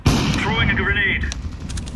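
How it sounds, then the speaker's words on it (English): A grenade thrown and going off in a first-person shooter match amid gunfire, one sharp loud burst followed by crackling shots and clatter, with a voice talking over the start. "Throwing a grenade."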